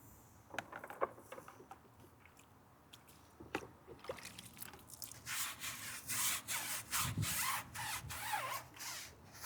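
A brush scrubbing car tires during detailing, starting as scattered soft rubs and taps, then building into rhythmic, wet, brisk back-and-forth strokes close by, fairly quiet overall.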